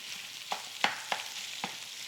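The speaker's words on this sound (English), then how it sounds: "Our sausage is just browning up" Sausage browning in a hot skillet, a steady close sizzle with four or five soft clicks and scrapes from stirring rising above it at roughly even intervals.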